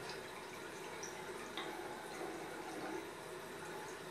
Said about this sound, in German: Es kommt gefiltertes Wasser